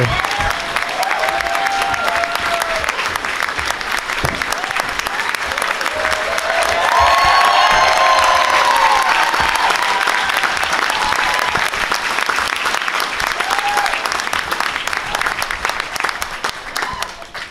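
A talk show studio audience applauding and cheering for arriving guests, loud, dense clapping that swells in the middle with whoops and shouts, sustained throughout, with a voice speaking over it.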